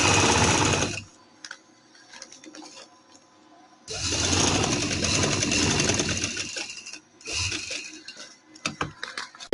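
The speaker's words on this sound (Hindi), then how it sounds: "इस तरह से घुमाकर हम डबल सिलाई लगाएंगे।" A sewing machine runs a double stitch on trouser fabric, rattling loudly in two long runs with a quiet pause between them, then a few short stops and starts.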